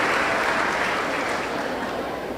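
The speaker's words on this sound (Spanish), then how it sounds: "Un aplauso para Marcela." Applause from an audience at a church debate with Padre Luis, dense steady clapping filling the room at even loudness throughout, with no talk over it.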